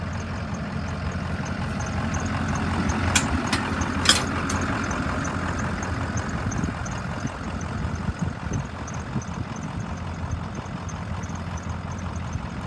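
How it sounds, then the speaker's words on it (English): A 2006 Ford E-450 twenty-passenger bus engine idles steadily with a low, even rumble. A few brief higher clicks or squeaks sit on top of the constant hum, recorded close by with no talking. "I'm gonna let this one run for a little bit. If anything happens, I'll update the description. But the motor really sounds good."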